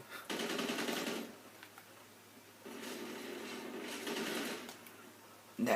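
Rapid automatic gunfire in a video game, two faint, fast-rattling bursts with a short quiet gap between them and no talk.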